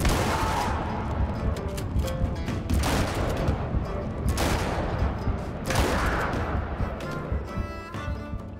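Dense, continuous gunfire and explosive blasts in Uncharted 3 combat, loud and sustained throughout with rapid overlapping shots and heavier booming bursts, no pause.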